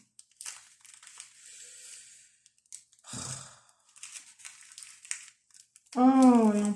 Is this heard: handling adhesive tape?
yes